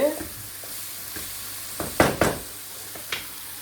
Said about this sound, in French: mon ail et ma garniture de petits légumes a bien sué